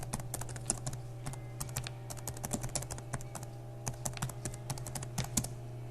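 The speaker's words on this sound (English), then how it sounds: "you can see here if I type portal" Typing on a computer keyboard, a steady run of close, crisp key clicks in uneven bursts over a constant low electrical hum, with no talking.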